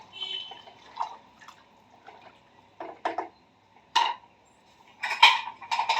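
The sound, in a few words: stirring vangi bath in a pot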